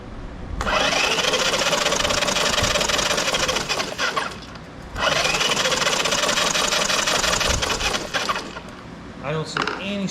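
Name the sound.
Honda Big Red ATC 200es engine cranking over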